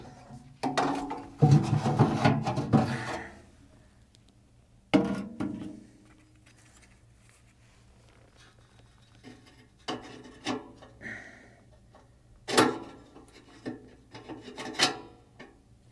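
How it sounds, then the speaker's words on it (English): Door being refitted on a Harman P series pellet stove after the burn pot is cleaned, with several scraping metal clunks and rasping slides in short bursts, close and fairly loud, with quiet gaps between. "don't forget to put the door back on"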